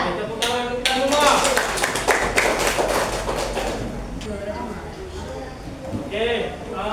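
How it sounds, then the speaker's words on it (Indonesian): Sixth-grade students clap together in a classroom, a burst of loud clapping that swells and then thins out, with voices and chatter around it. "Oke, tepuk tangan untuk kita semua."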